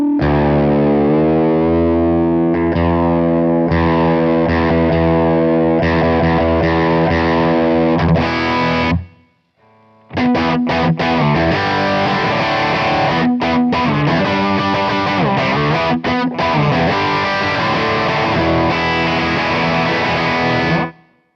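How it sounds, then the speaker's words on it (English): Electric guitar played through a Kemper Profiler Player using a Vox AC20 amp profile, driven and chorused chords ringing loud, a brief gap midway, then rapid strummed and muted chopping passages continuing to the end. "Some legendary amps. Oh, the Vox AC20."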